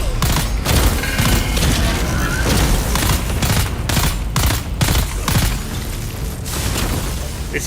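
Sustained, dense gunfire and booming impacts in the video game Dune Awakening, with loud shots hammering continuously in irregular bursts throughout, heavy and close.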